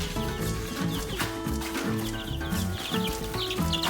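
Week-old Americana and Welsumer chicks in a transport tub, a dense, lively chorus of high peeping and clucking heard close up.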